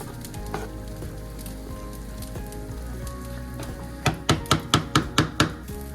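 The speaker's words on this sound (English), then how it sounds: "So this is almost like a beef stir fry in a way. So just rotate all the pieces." Beef stir fry sizzles steadily in a pan, a constant hiss of frying broken near the end by a quick run of sharp scraping clacks as the pieces are turned.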